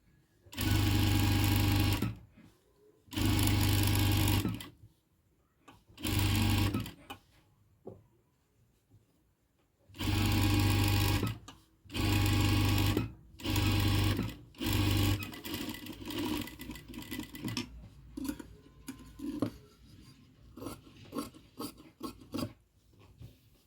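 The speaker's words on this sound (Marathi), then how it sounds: "आपण दाबटीप टाकून घेऊया" Sewing machine stitching a puffy-sleeve blouse, running in loud, steady bursts of a few seconds separated by pauses, then giving way to quieter irregular rubbing and handling of fabric.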